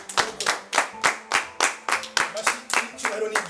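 A church congregation clapping together in a steady, even rhythm, about three claps a second, with faint voices or music underneath.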